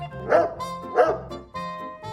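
A dog barks twice in loud, close succession, each bark followed by a softer whining yip, with no talk over it.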